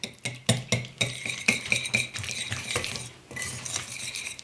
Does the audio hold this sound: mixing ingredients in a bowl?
yes